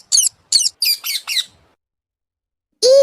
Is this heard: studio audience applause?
no